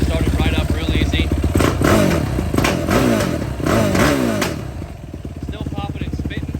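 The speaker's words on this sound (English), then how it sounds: "We'll fire it up, see how she runs." A Yamaha YFZ 450 ATV engine runs after carb tuning, loud and close, with throttle blips that rise and fall, a popping, spitting exhaust and rough idle clatter, with talk mixed in.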